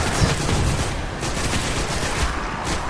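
Rapid automatic fire from a main weapon in the shooter game Destiny, a dense continuous burst of loud shots with no pauses.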